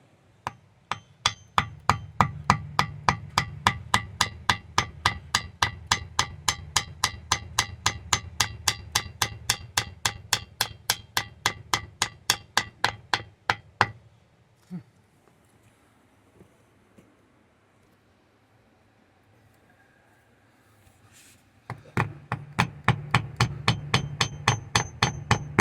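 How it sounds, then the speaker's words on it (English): Rapid, evenly spaced taps of a hatchet on wood, a long run of sharp knocks, a quiet pause with faint outdoor sounds, then tapping resumes. "I'm going to use that to tap the wood"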